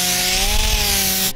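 A Mud Hog sander fitted with 36 grit abrasive grinds paint off a truck bed, making a loud, continuous, close rasping roar with a steady motor tone that cuts off at the end.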